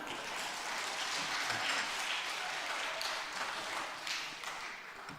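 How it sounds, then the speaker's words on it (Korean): A church congregation at a retreat applauds in agreement with the pastor, a steady wash of moderately distant clapping that holds evenly for several seconds. "동의하시는 분 박수"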